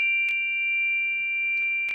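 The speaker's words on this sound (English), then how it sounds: "I like to use these Zen chimes that make a beautiful sound." Zen chimes ring with a sustained, steady metallic tone, and small soft strikes come in at intervals, close and clear.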